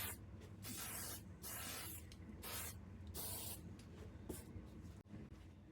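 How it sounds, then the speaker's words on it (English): Stop Rust spray paint hisses onto a rusty gas can in about five close, loud bursts, with short pauses between them. "I'm going to spray paint it first because it'll get into every little crack and crevice better."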